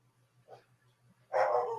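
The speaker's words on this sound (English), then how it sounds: "Oh, they're out. That's why they're barking." Dogs bark a few times at a distance, faint at first and then a louder burst near the end, over a steady low hum.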